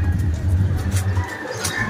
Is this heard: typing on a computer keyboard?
no